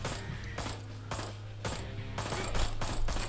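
Gunfire from the video game Ride To Hell, bursts of rapid shots repeating at irregular intervals over a low steady game hum, growing slightly louder toward the end, with no talking.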